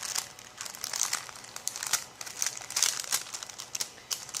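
A glassine envelope from a Studio Calico birds and bees scrapbook kit rustles and crinkles continuously as it is handled up close, a crisp papery crackle with no talking.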